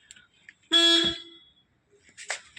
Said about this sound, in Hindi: हॉर्न सिंगल टोन है।